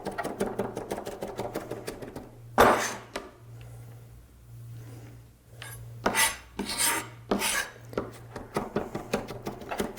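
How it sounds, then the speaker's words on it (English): A knife chopping garlic finely, rocking back and forth on a board, makes a steady run of raspy scraping strokes with a few sharper knocks and a low hum underneath. "So we're just kind of running through the garlic back and forth a few times until we get into really small pieces"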